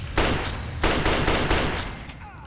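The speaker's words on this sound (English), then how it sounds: "Apparently these bullets aren't even hurting him." Gunfire in Fallout 3 comes as bursts of loud, close, rapid shots with short gaps between them, the last burst fading out.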